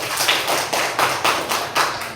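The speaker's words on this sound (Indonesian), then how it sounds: "tepuk tangan dulu" Children in an Islamic studies classroom clap their hands together in a rhythmic pattern, about nine evenly spaced bursts of claps in quick succession, close and fairly loud.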